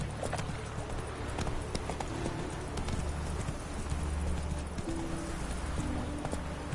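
Roach, a horse in The Witcher 3, galloping with steady rapid hoofbeats over a continuous rushing ambient bed, close and fairly loud, with no voices.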